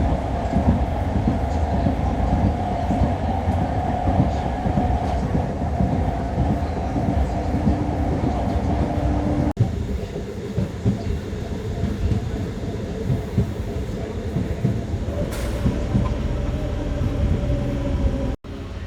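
A MEMU express train pulling out of Putla Cheruvu rumbles and rattles on the line, a loud, continuous roll with a faint whistle-like tone near the end.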